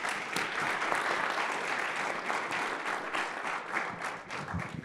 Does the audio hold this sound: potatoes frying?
no